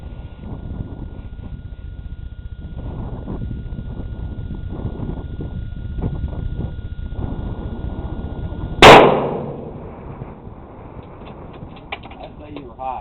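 A single sharp .270 rifle shot rings out toward a distant target in open, windy country, loud and abrupt with a fading echo, after a stretch of wind noise and soft movement.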